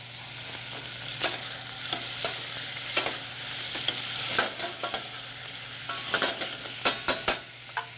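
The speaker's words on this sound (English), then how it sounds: "So as this is searing, we're going to add a little bit of onion and carrot." Pork sears in a hot pan with onion and carrot for an Italian ragu: a steady close sizzle with scattered sharp clicks and scrapes of stirring, no voices.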